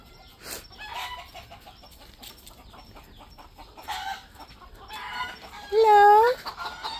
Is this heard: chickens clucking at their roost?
yes